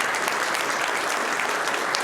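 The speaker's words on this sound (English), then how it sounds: "I don't know why I started clapping for myself" Steady, dense applause from an audience at the close of a conference talk on software update nudges, continuous and fairly loud without breaks for about two seconds.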